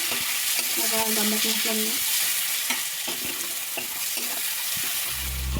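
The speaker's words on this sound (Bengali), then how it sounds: "পেঁয়াজটা আমার লাল লাল করে ভাজা হয়ে গেছে।" Chopped onion fries in a pan with a constant loud sizzle, while a utensil stirs and scrapes in quick rhythmic strokes; a voice speaks briefly over the cooking.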